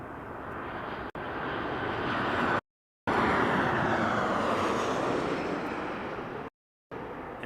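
A jet airplane roars past at Las Vegas Harry Reid International Airport, a loud, broad continuous engine rumble that swells and holds, with two short dropouts and no voices.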